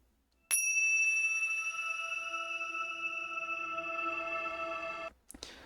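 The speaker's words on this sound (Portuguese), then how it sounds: "a nossa vibração começa com este sino." A single bell is struck once and rings out clearly, its bright shimmering tone decaying slowly for several seconds before it is cut off.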